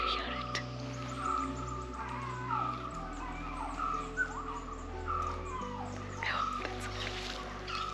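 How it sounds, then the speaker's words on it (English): Songbird chirping repeatedly in a two-note call like "peekaboo", heard several times over steady outdoor ambience with low droning engine or traffic hum during a roadside stop in Udupi. "That's chirping and it sounds like it's saying peekaboo."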